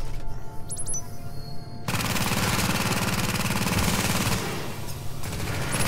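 Automated turret in a Tacticians build video game scenario fires a dense, continuous burst of rapid shots that starts abruptly after a quiet moment and keeps rattling loudly to the end.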